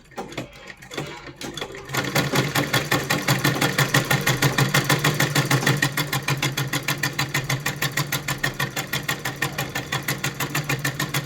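A sewing machine stitches two pieces of cloth together with a fast, steady, rhythmic needle clatter that starts after a short quiet pause and runs loud and close to the end.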